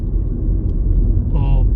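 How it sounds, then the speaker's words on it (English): Road noise inside a 2020 Mini Cooper 1.5T at motorway speed, a loud, steady low rumble filling the cabin, with a brief higher tone rising near the end. "The road noise is pretty high, especially on the motorway."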